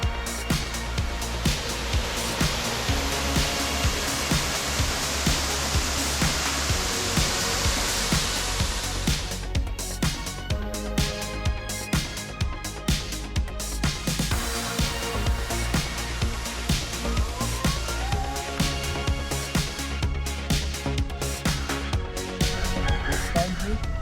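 A waterfall on Siquijor island roars as a steady, loud broadband rush, continuous and close throughout with no talk over it.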